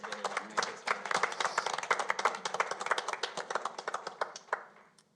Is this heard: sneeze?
no